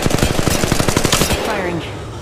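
Rapid automatic gunfire in the Apex Legends video game, a loud, fast burst of about twenty evenly spaced shots that stops after a second and a half and leaves a short fading tail.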